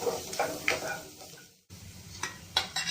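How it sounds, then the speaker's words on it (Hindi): Cabbage and chopped vegetables sizzle and fry in a pan for Manchow soup, with stirring scrapes and clinks over a steady hiss and a brief drop near the middle. "अब मैं ये पत्ता गोभी डाल रही हूँ, और इसे भी वही 1 मिनट तक ही मैं कुक करूँगी"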